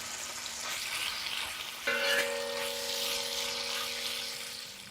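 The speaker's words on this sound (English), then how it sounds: "You can see our bacon's getting done." Chopped bacon sizzles steadily in cooking oil on a plow disc discada, a continuous bright frying hiss with a faint tonal hum running underneath.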